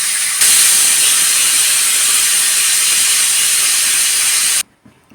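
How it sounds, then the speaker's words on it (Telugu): A pressure cooker full of mutton biryani blasts a loud, continuous hissing steam whistle for about four and a half seconds, then cuts off sharply into near quiet with a few faint knocks. "రెండు విజిల్స్ వచ్చాయి కదండి,"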